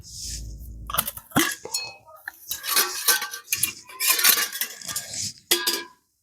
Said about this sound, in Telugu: ఒక కడాయి తీసుకొని కడాయి నిండా నూనె వేసుకుందాం